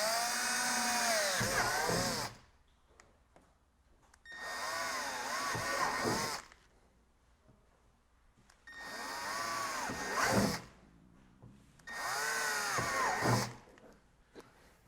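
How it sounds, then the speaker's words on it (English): Power drill boring holes into a kayak hull for a motor transom adapter, four separate whining bursts of about two seconds each, close and loud, with quiet gaps between them. "Then I'm going to go ahead and drill some holes in my kayak."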